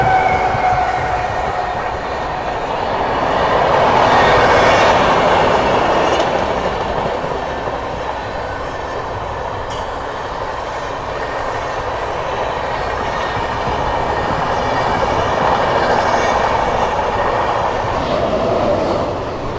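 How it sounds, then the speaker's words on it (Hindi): The Patna Kota Express overtakes on a parallel track of the dedicated freight corridor at night, a loud continuous rumble of rolling wheels and carriages that swells and eases, heard from aboard a passing train. "और ये लीजिए अब पटना कोटा बिल्कुल 1:30 में हमको ओवरटेक कर रही है।"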